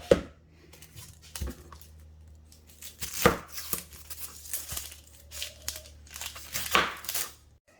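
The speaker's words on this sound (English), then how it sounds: "Since we're cutting an onion and it makes me cry" A white onion being chopped on a board with a knife for carrot soup, with sharp, irregular close taps and cuts spaced over a quiet kitchen background.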